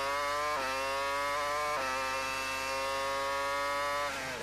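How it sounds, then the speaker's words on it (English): A Formula One car's engine screams onboard with Räikkönen at the 2002 Canadian Grand Prix. A loud, continuous high-revving whine rises steadily, with sharp drops at each upshift repeating about every second or so, and no voices. "You can hear how hard the engine works around this circuit."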